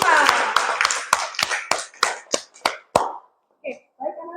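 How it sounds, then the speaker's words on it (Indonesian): A school class of students in Indonesia bursts into brisk, fairly close hand clapping that thins out into a few scattered claps, with a short bit of talk at the end. "Tepuk tangan untuk kelas"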